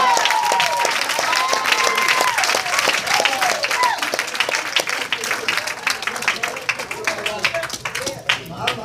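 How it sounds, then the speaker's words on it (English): A church congregation claps their hands together in a dense, continuous burst of applause, loud and sustained, with voices calling out over it. "Clap your hands and tell God thank you."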